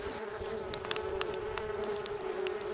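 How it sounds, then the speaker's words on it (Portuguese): Swarm of wild bees buzzing in the African wilderness, a dense continuous drone with individual insects whizzing past close by, steady and moderately faint. "Cientos de abejas revolotean a su alrededor."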